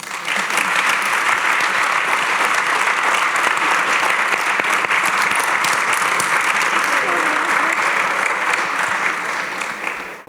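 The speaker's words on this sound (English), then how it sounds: "So a final round of applause." Sustained audience applause at an International Women's Day panel event, a dense, even wash of many hands clapping at steady loudness for about ten seconds before tapering off at the very end.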